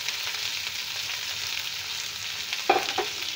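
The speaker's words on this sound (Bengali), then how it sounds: "এবার এটাকে হালকা একটু সতে করে নেব, এই 2-3 মিনিটের জন্য করে নেব" Chopped ginger, capsicum and tomato sautéing in a pan for an egg dish produce a low, steady sizzle, and a couple of brief clinks of a spatula against the pan sound near the end.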